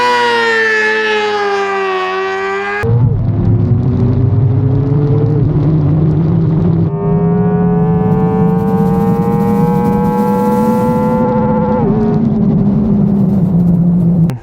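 Stock 150–160cc scooters, a Zontes 150X, Honda Click 160 and Yamaha Aerox, race flat out on a racetrack. A loud, close, high-pitched engine whine climbs steadily, dropping briefly twice before rising again.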